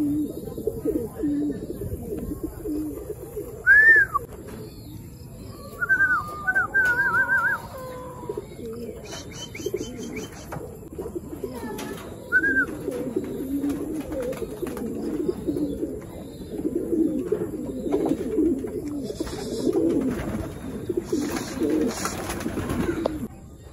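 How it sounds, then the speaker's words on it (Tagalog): Racing pigeons returning home from training to their loft give soft repeated coos and short chirps, near and intermittent over a low background hum, with occasional faint talk. "Ayan, may pauwi na tayo mga kalapatids."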